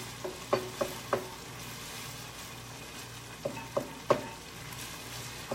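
Meat for a cheeseburger casserole browning in a pan, a soft steady sizzle with a few quiet spoon taps and scrapes in two small clusters, no voices.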